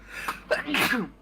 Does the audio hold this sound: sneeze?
yes